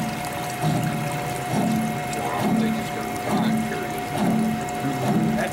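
Screw press dewatering animal fleshings, with water draining out in a steady trickle while low mechanical thumps recur about once per second over a constant machine hum.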